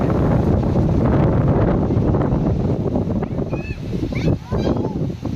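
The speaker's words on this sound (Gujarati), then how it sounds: "આટલો પવન ચડી ગયો" Strong, steady wind roars and buffets the microphone, with faint voices under the gusts.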